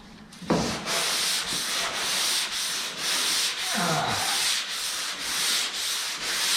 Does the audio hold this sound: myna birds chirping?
no